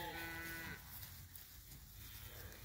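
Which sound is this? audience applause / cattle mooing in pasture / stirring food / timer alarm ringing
cattle mooing in pasture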